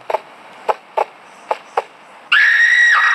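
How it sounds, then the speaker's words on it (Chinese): A TV show prop sound board plays its failure effect: a series of short sharp buzzing hits spaced irregularly, followed by a loud sustained shrill electronic tone near the end. "这个是失败的声音"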